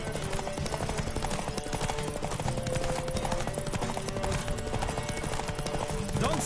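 A horse gallops in the video game The Witcher 3, its rapid hoofbeats continuous and close under a dense wash of game music and ambience.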